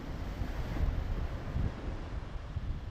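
Strong, steady wind roars across an open beach at Milford, buffeting the microphone with continuous low rumbling gusts and no voices.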